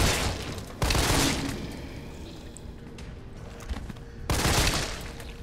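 Pistol shots fired at zombies in the Resident Evil 3 Remake video game, loud bursts at the start, around one second and near the end, with quieter in-game ambience between.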